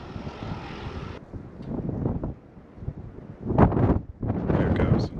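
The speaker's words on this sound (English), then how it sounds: "watch the plane to Miquelon take off" Heard from nearby, a small passenger plane bound for Miquelon powers up for takeoff on Saint Pierre, a broad engine roar swelling and fading over heavy wind buffeting on the microphone.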